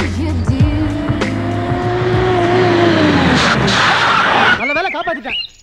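A car races in with a loud engine roar and squealing tires as it skids to a halt, then a voice cuts in.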